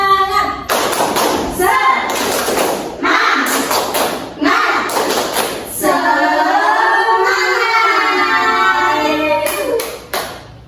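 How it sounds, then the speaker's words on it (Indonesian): Schoolchildren and their teacher perform a rhythmic clapping chant, with bursts of sharp claps alternating with voices chanting together in a lively, patterned beat. "Tepuk semangat"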